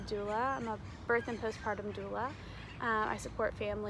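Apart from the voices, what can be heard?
None of the usual background noises is heard.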